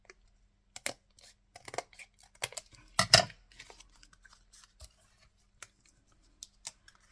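Scissors cutting through card during papercraft work: a scattered series of close, sharp snips and crisp clicks, with one louder cluster of cuts in the middle, separated by quiet pauses.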